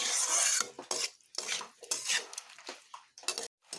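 Banana stem sautéed with spices and a splash of water is stirred in a pan, giving repeated close, wet scraping strokes of a spoon against the metal in short uneven bursts with brief pauses.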